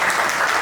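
A short burst of dense audience clapping at an open mic poetry night in a cafe, steady and close throughout with no voices over it.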